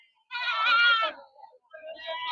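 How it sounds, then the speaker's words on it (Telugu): Goats bleating at a goat and sheep market, one close, loud, wavering bleat followed by a shorter second bleat after a brief pause. "మేకలు చూడు ఎలా ఉంది"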